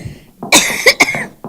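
A speaker at a State of the City address lets out a sudden close cough, two or three harsh bursts in quick succession with no speech around them.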